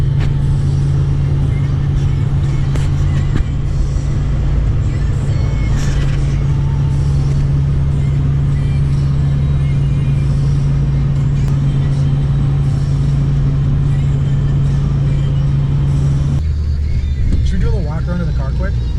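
A car with an LS4 engine driving on the road, heard from inside as a loud, steady engine drone with a constant low hum and road rumble, people talking over it throughout, before the engine note drops near the end.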